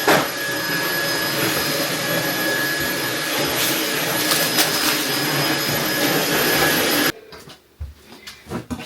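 A Dyson vacuum cleaner that had been faulty runs with a loud, steady whooshing roar for about seven seconds, then shuts off abruptly, leaving faint handling noises.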